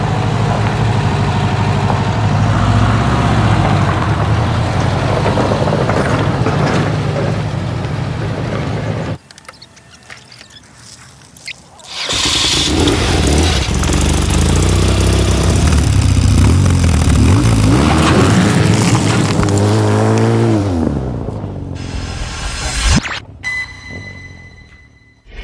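A 2014 BMW R1200GS motorcycle engine runs loud and close, steady with throttle changes, dropping briefly to near quiet before roaring back up and revving, then cutting off near the end.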